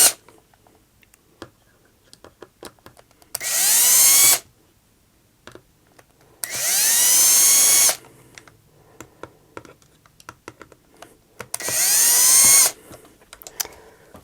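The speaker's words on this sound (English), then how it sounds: "I'm going to try to just slowly go with my drill and see if it is biting in" A power drill driving screws whirs in three separate bursts of a few seconds each, with light clicks and tapping sounds in the pauses between them.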